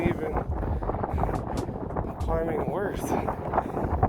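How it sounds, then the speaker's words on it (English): Heavy wind in a Colorado mountain valley buffets the microphone with a constant roar while a person speaks over it. "on this morning it was windy AF. Here, take a listen."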